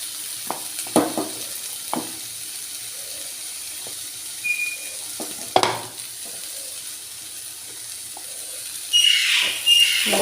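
Taro stems being stir-fried with ground coconut paste, a Kerala thoran: soft scraping stirs and light sizzling with a few sharper clinks of a spoon against the pan, fairly quiet overall, no talking.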